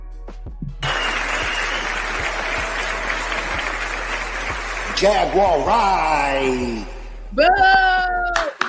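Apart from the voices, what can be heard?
audience clapping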